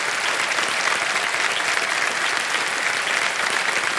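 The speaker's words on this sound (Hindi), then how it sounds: "तालियां बजते रहे सुधा जी के लिए" Studio audience applause on the KBC quiz show set, a dense, steady wash of many hands clapping, loud and unbroken throughout with no voice over it.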